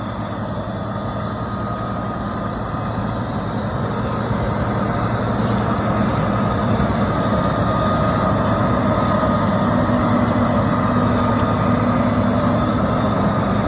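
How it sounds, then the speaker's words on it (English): A John Deere 9650 combine harvester with a 30-foot head runs through a bean field, its engine giving a steady, loud, continuous drone that holds unbroken from start to finish with no talking. "running the combine"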